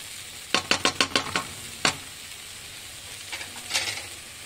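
Stirring honey chilli potato sauce with tomato ketchup in a pan: a quick run of about six scraping clicks, then a single stroke, and a few softer scrapes near the end, over a quiet background.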